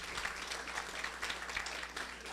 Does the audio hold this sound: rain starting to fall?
no